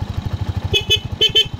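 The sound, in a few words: motorcycle horn being tested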